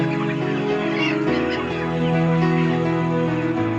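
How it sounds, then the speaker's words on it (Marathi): A dense flock of month-old chickens on a poultry farm clucks and calls over one another in a continuous overlapping chorus, close and fairly loud. "माझ्या कोंबड्या"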